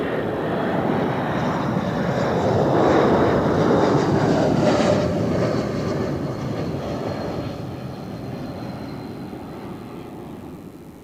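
An Airbus A220 airliner arriving from Alicante roars past at Zurich Airport, a broad jet rumble swelling to a peak and then slowly fading away, heard alone at moderate distance.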